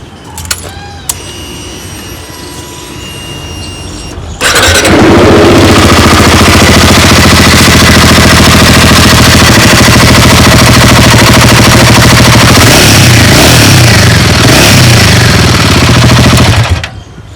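A Royal Enfield Himalayan 450 motorcycle engine with an abnormal noise idles, then is revved to a loud, sustained roar with a rattly, clattering edge that persists for over ten seconds before cutting back.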